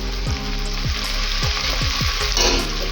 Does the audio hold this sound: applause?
no